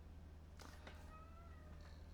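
A house cat meows a few times indoors, wanting into or out of a room; the short cries are faint over a steady low electrical hum.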